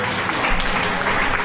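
Loud, dense applause from a crowd fills the Outlast horror game scene, steady clapping throughout the short burst with no voices.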